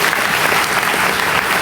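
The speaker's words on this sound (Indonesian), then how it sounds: "Ada tepuk tangan" Dense, loud applause from a church congregation during an Ascension sermon, continuous and even clapping filling the short stretch with no voice on top.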